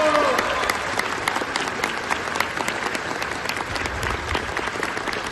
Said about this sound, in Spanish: brindemos un fuerte, pero muy fuerte aplauso a nuestra invitada de honor